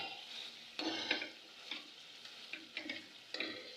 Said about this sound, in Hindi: चिकन की बुनाई भी आपने इसी तरह से करनी है